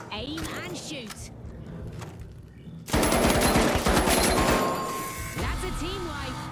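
Rapid automatic gunfire in the Marathon video game bursts in suddenly after a stretch of voice and game sounds, a loud dense volley of shots that runs for several seconds, with talking heard before and after it.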